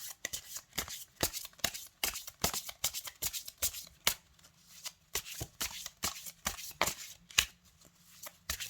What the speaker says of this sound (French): Elles se mélangent très très bien.